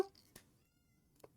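A house cat gives two short meows with quiet gaps between them, the sound fairly faint against a low background.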